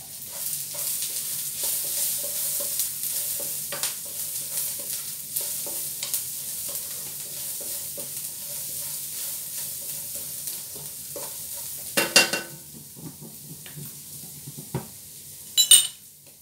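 Garlic and onion with black pepper sautéing in a pan for chicken adobo, a low steady sizzle with a utensil stirring and occasional metallic clinks of spoon against pan, brighter knocks near the end, no talking.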